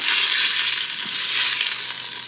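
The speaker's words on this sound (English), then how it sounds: "We're just gonna get this chicken really nicely seared in there." Chicken searing in a hot pan, a loud, close, continuous hiss of frying fat that stays steady throughout with faint crackles and no voices.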